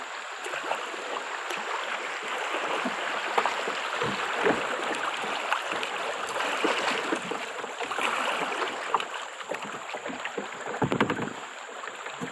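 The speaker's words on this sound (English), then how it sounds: "I'm letting you know you're coming up on rapids." Rushing river rapids heard from a kayak: continuous broadband water roar and splashing, fairly close, with some wind buffeting on the microphone and no talking.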